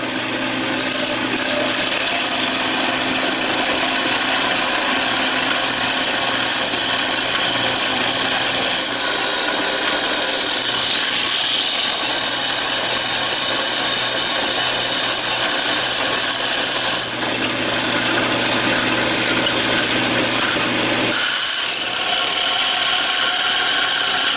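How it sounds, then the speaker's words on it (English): A bandsaw cuts steel blank for a fillet knife, a loud continuous grinding rasp with steady high whine running the whole time, briefly dipping near the end, with no talking. "now we're just going to take the bandsaw and we're going to get as much of the extra steel out of the way as we can."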